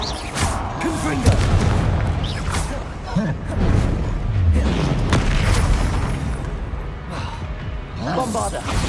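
Blasting spells in Hogwarts Legacy burst in a chain of deep booming explosions with whooshing magical bursts and crackling debris, loud and layered under a shouting player's voice.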